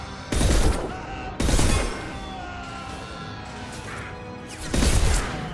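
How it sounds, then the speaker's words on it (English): Three punchy bursts of incendiary rounds fired in the sci-fi video game Mass Effect 2, two close together and one after a pause, with a faint ringing game background between shots and no talking. "How are you enjoying 3 incendiary bullets to the face, back to back?"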